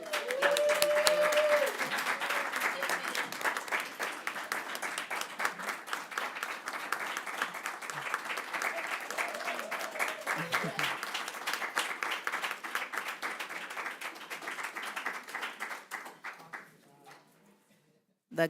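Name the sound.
audience applause at board meeting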